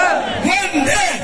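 A huge, dense outdoor crowd roars and shouts continuously at a political rally in Kekri awaiting Yogi Adityanath, loud and close with overlapping voices swelling and dipping.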